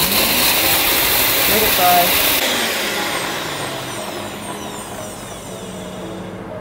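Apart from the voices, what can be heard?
electric spice grinder blitzing kofta spice mix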